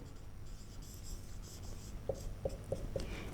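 Pen or chalk writing on a board during a geometry lesson, faint scratchy strokes followed by a few short taps or ticks near the end, quiet and close, no talk.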